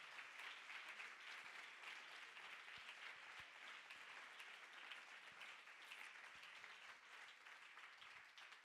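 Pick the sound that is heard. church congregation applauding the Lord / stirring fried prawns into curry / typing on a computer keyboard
church congregation applauding the Lord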